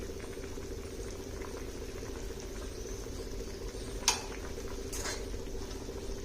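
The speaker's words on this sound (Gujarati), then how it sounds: "તો હવે આપણું શાક છે એકદમ સરસ ઉકળી અને રેડી થઈ ગયું છે" Sev undhiyu curry bubbles steadily at a full boil in a pot, a continuous close simmering gurgle with a couple of brief clinks partway through.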